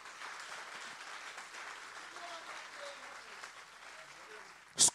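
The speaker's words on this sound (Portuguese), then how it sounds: "Só quem crê pode aplaudir a Jesus nessa noite aí" A church congregation claps together during a night service, a steady broadband patter held for several seconds with faint voices underneath, ending in a sudden loud burst.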